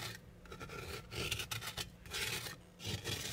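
A plastic scraper rasps over a cast aluminum Weber Q grill cook box in short, repeated gritty strokes, close and fairly quiet, with brief pauses between passes.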